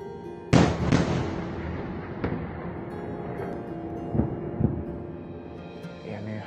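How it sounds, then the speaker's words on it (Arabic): Strong explosions during a military attack in Palestine, several heavy booms in quick succession, the loudest one up close at the start and fainter blasts following with a rumbling roar between them. "صار الانفجارات ورا بعضها، اسمها انفجارات قوية"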